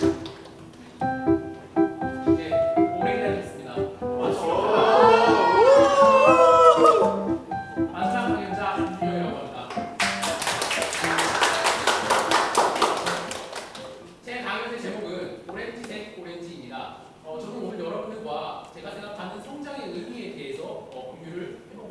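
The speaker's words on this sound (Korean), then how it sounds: "큰 박수 부탁드려요." Audience applause welcoming a speaker onto the stage at a youth peer lecture event, a dense burst of clapping lasting a few seconds between stretches of a host talking.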